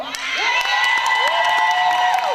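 A graduation audience cheers loudly for an 8th-grade promotion, with shouts, whoops and scattered applause rising and falling together over about two seconds, no speech on top.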